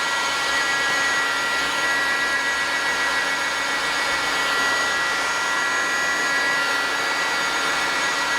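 A hot air gun runs with a loud, steady whooshing roar of blown air and fan noise, continuous and close throughout with no talking.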